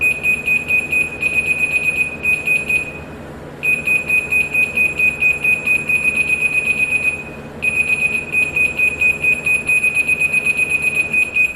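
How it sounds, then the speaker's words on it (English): A self-leveling laser level emits high, piercing electronic beeping in a steady rhythm, stopping briefly twice before resuming, over a low background rumble. "the slower beeps mean I'm too high, the fast beeps mean I'm too low"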